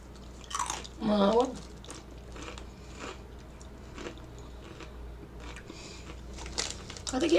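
Russian snack chips crunch between teeth in short bursts of close, crisp chewing, quiet overall, with some faint talking around the bites.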